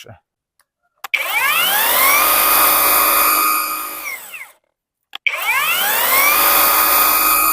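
A Vitals Master AM 1860n3 cordless battery pressure washer runs in two bursts, each starting with a sharp click and rising into a loud, high motor whine with a hissing spray, separated by a short quiet pause.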